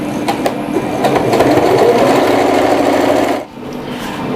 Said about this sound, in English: So let's begin to sew.